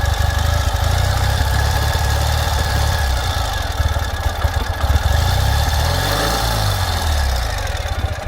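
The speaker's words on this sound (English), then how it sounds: "Very vintage sound to these motorcycles. I love the way they sound as they run through the RPMs." A 2020 Ural Gear Up motorcycle in Terracotta Metallic runs steadily with a deep, lumpy vintage engine note, holding a loud idle-like throb that rises and falls as it moves through the revs, with no talking.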